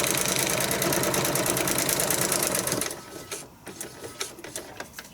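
A sewing machine rattles rapidly through small stitches on a paper-pieced log cabin Christmas ornament, a fast, even mechanical chatter for about three seconds, then stops, leaving faint handling clicks.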